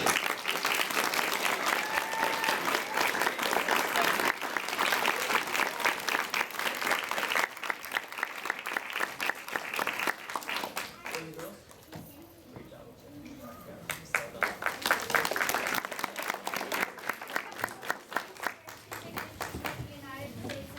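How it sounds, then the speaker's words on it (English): An audience at a school drama club performance gives a long, sustained round of applause, dense clapping that thins and swells over about twenty seconds, with a few children's voices heard among the crowd. "please join me in a round of applause for everyone who helped make this"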